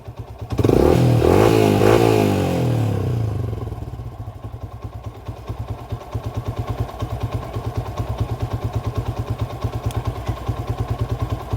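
A motorcycle engine revs loudly up close during a regulator/rectifier and battery voltage check, then settles into a rapid, pulsing idle that putters evenly for several seconds.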